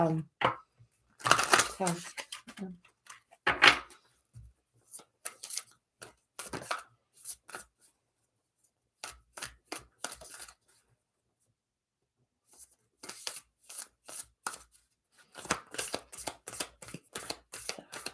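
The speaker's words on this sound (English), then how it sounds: "So we will just shuffle a little bit and see what the energy has to say today." Moonology oracle cards are shuffled by hand in short, crisp bursts of riffling and sliding, separated by quiet pauses, close to the microphone.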